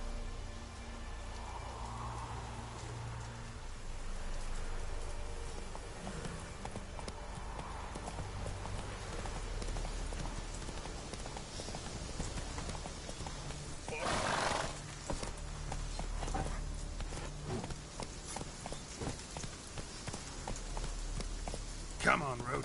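A horse's hooves clip-clop steadily along in The Witcher 3 game, with a whinny, patches of rain and other ambient effects, while someone talks over the ride.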